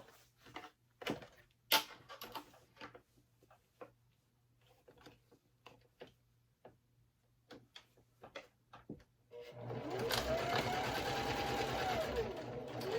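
A domestic sewing machine stitches a leather wallet, with sparse handling clicks and taps for most of the stretch before a steady, close, loud run of sewing in the last few seconds.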